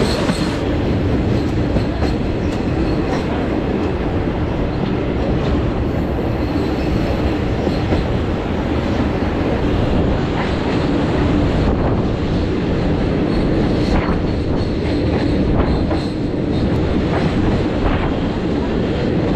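Riding in sleeper class on the Sealdah–Silchar Kanchenjunga Express, a loud, continuous rumble of the moving train fills the carriage, with rhythmic clickety-clack of the wheels over the rail joints throughout.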